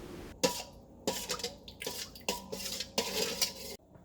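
Sugar and yeast in water being mixed in a bowl, with repeated scraping and clinking strokes of a utensil against the bowl, fairly close and rhythmic, no talking.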